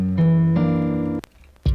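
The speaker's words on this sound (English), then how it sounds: "And then you want to add some vinyl so you get that nice white noise." Guitar chords run through tape and vinyl white-noise effects for a lo-fi beat, with sustained tones changing once, then a brief crackly gap and a sharp noisy burst at the end.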